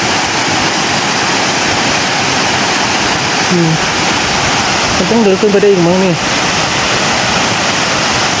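Steady rushing water roars continuously from Siriphum Waterfall on Doi Inthanon, Thailand, with a person speaking briefly over it.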